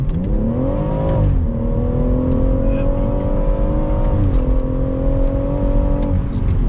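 A BMW M140i pulls hard under acceleration, its engine note climbing and holding in a loud, steady drone with a brief rise and dip, heard from inside the car.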